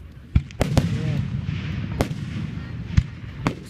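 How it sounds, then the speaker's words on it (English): Fireworks at a high school display go off in a series of sharp booms and cracks, about six distinct bursts spaced irregularly over a continuous rumbling crackle. "Just like every country come together and watch fireworks."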